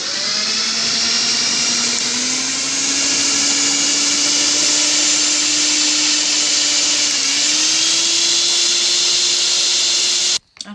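Dough for a pasta frola jam tart is kneaded as a loud, steady motor whine runs almost unbroken for about ten seconds, its pitch rising slightly, before cutting off abruptly at the end.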